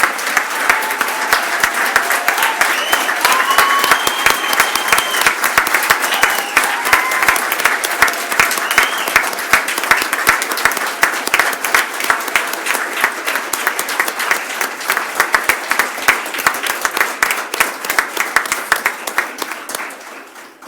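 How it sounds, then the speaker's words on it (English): An award ceremony audience claps continuously in sustained, dense applause that holds steady for about twenty seconds before tapering at the end. "Let's applaud them, people."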